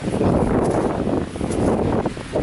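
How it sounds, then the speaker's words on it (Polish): Strong wind buffets the microphone on a winter mountain trail to Skrzyczne, producing a loud, continuous roaring rumble with gusty swells and no talking. "strasznie wieje ale idziemy dalej"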